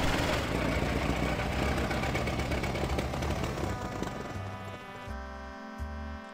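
Car engine idling in the video game A Golden Wake, a loud, rough, sputtering chug that runs steadily, then thins into a quieter tonal putter near the end.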